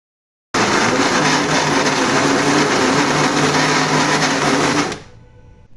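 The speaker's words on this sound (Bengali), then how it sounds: "মুরগির বুকের মাংস এবং কিছু সলিড মাংস নিয়ে সেটি ধুয়ে পানি ঝরিয়ে আমি ব্লেন্ডারে ব্লেন্ড করে নিচ্ছি।" A kitchen blender minces washed chicken breast and other solid chicken meat. It starts abruptly, whirs loud and steady at close range for about four seconds, then cuts off and winds down.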